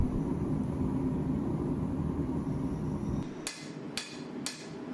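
Hammer striking hot steel from an old leaf spring being forged into a Bowie knife: a steady forge roar fills the start, then three loud, ringing blows land about half a second apart near the end.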